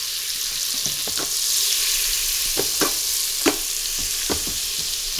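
Vegetables sautéing in melted butter inside an Instant Pot on its saute setting, a steady broad sizzle running throughout with several sharp crackles and pops scattered on top, close and fairly loud, no voices.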